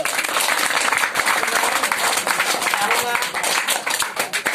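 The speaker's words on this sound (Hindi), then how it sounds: "तो मैं सर के लिए जोरदार ताली करें" Loud, dense audience applause from a crowd of students at a school gathering, steady clapping filling the space for several seconds with no voices on top.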